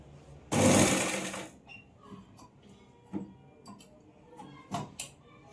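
A sewing machine stitches fabric for a homemade gudhi cloth made from an 80 cm blouse piece, running in one loud burst of about a second, followed by faint clicks and light handling noises.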